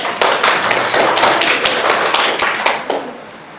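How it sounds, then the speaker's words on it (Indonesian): Classroom applause at the end of a student presentation, a group of students clapping close by with distinct, uneven handclaps that thin out and stop near the end. No one talks over it. "Tepuk tangan dulu ya"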